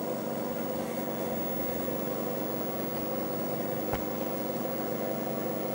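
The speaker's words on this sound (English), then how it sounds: "Wow, that fan. I don't think it used to be that loud." An Apple IIe computer's cooling fan runs loudly with a constant droning hum and steady whirring, broken by one brief click near the end.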